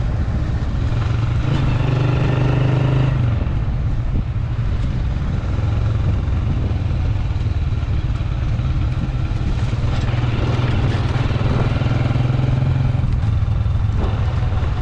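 Motorcycle ride on a badly broken, rough road, its engine a steady close rumble throughout with clattering bumps, loud and continuous with no talking.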